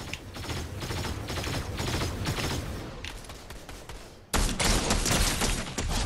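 Sustained video-game gunfire crackles in dense rapid bursts from several weapons, a steady barrage that suddenly jumps louder and closer near the end, with no talk over it.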